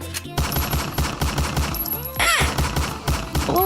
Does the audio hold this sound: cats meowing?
no